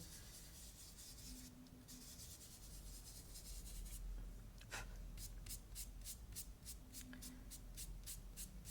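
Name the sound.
blending soft pastels on paper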